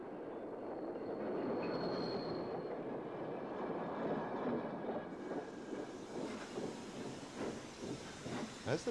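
A 7mm O gauge model freight train with eight vacuum-braked wagons carrying specialist loads runs steadily along a layout, a continuous low rolling rumble with faint hiss and a thin squeal, growing more clattery toward the end.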